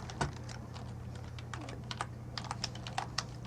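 Rapid, uneven keystrokes on a computer keyboard clatter alone at close range over a steady low electrical hum, with a few louder clicks standing out.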